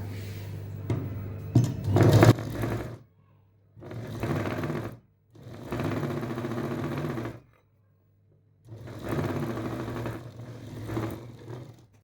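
A sewing machine stitches the side seam of a princess-cut blouse in several close bursts of rapid mechanical whirring, each lasting one to two seconds and separated by short quiet pauses.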